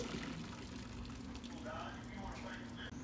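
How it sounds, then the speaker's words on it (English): Water pours and drains as cooked pasta for Halloween mac and cheese is strained, a soft splashing gush with a low steady hum underneath, faint and continuous. "So now you're going to strain the noodles as always."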